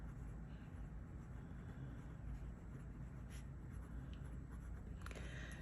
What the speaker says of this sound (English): It's a stiff steel nib, so there's no line variation. It's just smooth,